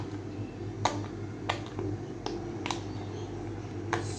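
Loud side of a handheld fidget toy clicking in a few sharp, separate snaps spread roughly a second apart, close to the mic, with no talking over them.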